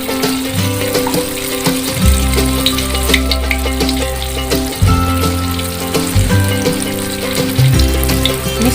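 Kue cucur palm-sugar batter frying in hot oil, a loud, continuous sizzle and bubbling with several surging bursts as more batter hits the oil, heard alone without talk.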